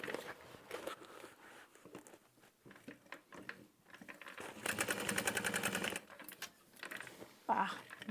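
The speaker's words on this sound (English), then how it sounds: "I'm going to add a quick second row of stitching over those connectors so that my top stitching doesn't come out." A home sewing machine runs a quick second row of stitching over handbag connectors, a dense rapid whirring burst of about a second, then a short second burst, with quieter handling noise around it.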